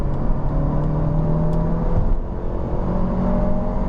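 A sporty car running a stock exhaust gives a steady, loud engine drone with constant whir and rumble, close up and without pause, with no talking over it.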